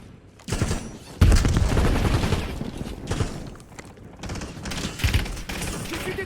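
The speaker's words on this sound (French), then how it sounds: "J'ai vu des tirs." Rapid bursts of automatic gunfire in a tactical shooter video game, loud and dense, with sustained volleys broken by brief gaps and trailing mechanical clatter.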